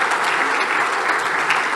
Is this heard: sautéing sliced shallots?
no